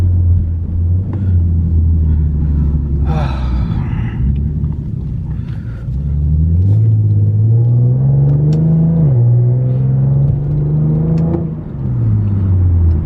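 Steady low engine rumble from inside a moving Infiniti G37, rising and falling as it accelerates and shifts, with a smooth exhaust drone throughout.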